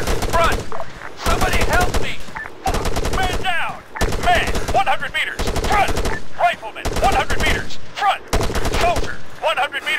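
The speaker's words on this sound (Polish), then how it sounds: "Strzelają we mnie!" Rapid bursts of automatic gunfire in the military shooter game Arma 3, loud and close, coming in repeated volleys of roughly a second each with short gaps between them and no talk over them.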